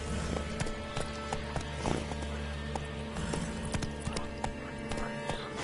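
Hoofbeats of a galloping horse in The Witcher 3 video game, a quick steady clip-clop of hooves with game ambience behind, close and moderately loud, with no talking.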